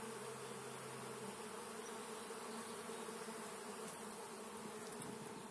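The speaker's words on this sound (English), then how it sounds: "He's not too concerned about these bees either" A swarm of Africanized-temperament honeybees hums in a steady, even drone that holds for several seconds with no talk over it.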